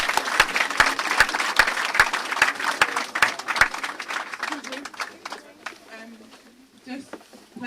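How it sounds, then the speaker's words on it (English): Audience applause at a press conference in Brixton Mosque, with a few loud sharp claps standing out early; the clapping fades after about five seconds and talk follows. "round of applause."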